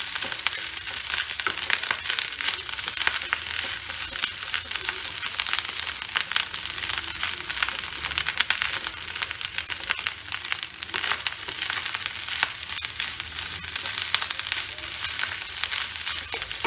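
Bengali fried rice (bhat bhaja) crackles in a hot pan, a dense, continuous sizzle broken by steady scraping stirs, close and loud throughout with no talking.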